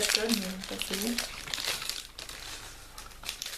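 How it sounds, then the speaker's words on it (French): A candy package is torn open with crinkling plastic wrapper sounds, close and fairly quiet, overlapping a person talking at the start. "Le paquet. Du mal à l'ouvrir."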